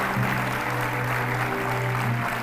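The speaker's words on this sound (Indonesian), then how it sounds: "tepuk tangan sekali lagi untuk moderator kita dan juga grup kedua" An audience at the I Am President show applauds the moderator and the second group, with a dense, steady wash of clapping over sustained musical tones throughout.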